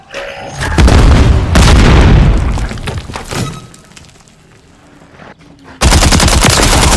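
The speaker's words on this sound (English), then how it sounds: "Grenade out! Grenade out!" Gunfire and a grenade explosion in Call of Duty: Modern Warfare III on PS5, with loud sustained bursts of automatic fire, a heavy boom, a quieter lull, then another loud burst of shooting at the end.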